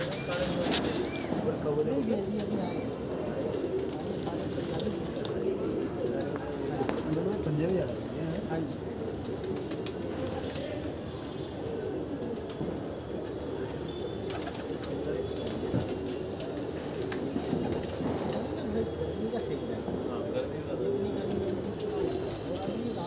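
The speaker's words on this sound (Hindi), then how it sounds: "ये रहे जी भाई कबूतर।" A flock of about sixty domestic pigeons coos in a soft, continuous, overlapping murmur, with a few chirps and wingbeats mixed in at moderate distance.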